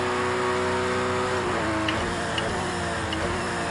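Porsche 911 RSR race car engine in Project CARS 2 at Le Mans, a steady sustained drone that shifts pitch around midway as it revs and changes gear, loud and continuous.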